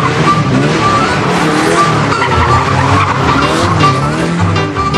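At an auto testing motorsport event in rural Herefordshire, a car skids hard, its tyres squealing loudly over a revving engine in a sustained close burst that wavers in pitch as the car slides through a turn.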